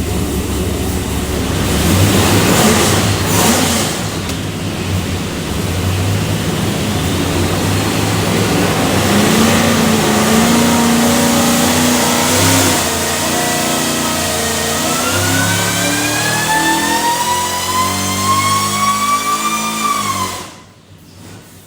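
A Whipple-supercharged 408ci LS V8 with a Holley Terminator X, built for a '67 Nova, roars through a long, loud dyno pull, pitch climbing steadily to a high scream before cutting off abruptly near the end.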